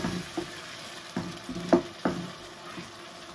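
Ground onion paste goes into hot oil in a frying pan, giving a close, low sizzle broken by a few soft stirring scrapes and dull knocks.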